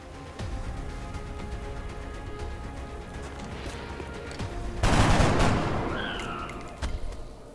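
Squad rifle and automatic gunfire in the turn-based strategy game XCOM: Enemy Unknown, a loud burst of rapid shots swelling midway and then fading, heard alone without talk.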